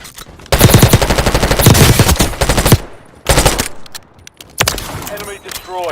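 Long rattling bursts of LMG fire in the Call of Duty Warzone Mobile video game, loud and close, with sharp gunshot cracks and short pauses between volleys.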